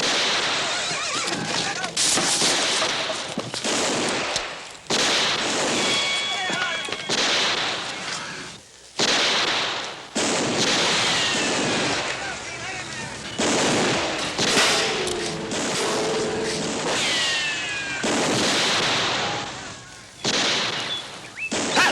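Gunfire in a Western TV episode: repeated loud shots and blasts ring out in bursts, mixed with shouting voices and dramatic background sound.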